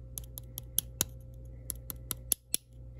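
Casing of a cheap bootleg iPod Shuffle tapped repeatedly, giving a series of small, sharp, close clicks at an uneven pace, quiet overall with a faint steady hum beneath.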